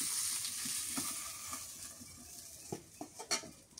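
Hot oil sizzles in a pan after tilapia fish has been fried, a steady close hiss with small crackles and a few clanks of a utensil toward the end.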